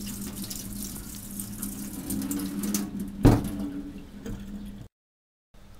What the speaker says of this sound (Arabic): وهنصفيه من المية.